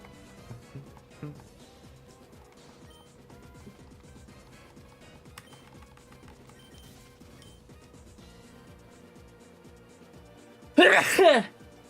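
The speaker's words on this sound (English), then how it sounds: "Feel like I got a sneeze coming up" A single loud, close sneeze bursts out near the end, following a stretch of quiet room tone with faint background game sounds and a few small bumps.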